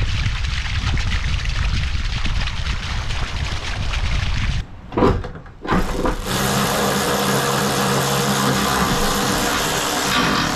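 Volkswagen Transporter van engine pulling into a workshop during extremely heavy rain: a loud roar of downpour gives way to a brief lull, then a steady low engine hum runs on under the rain.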